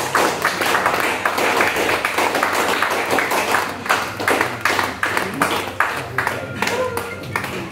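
Audience applause at a stage event launching the poster for a Nepali song, a dense, steady roll of many hands clapping close by for several seconds.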